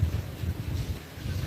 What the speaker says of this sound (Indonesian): Di sini berangin